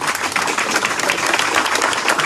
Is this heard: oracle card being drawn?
no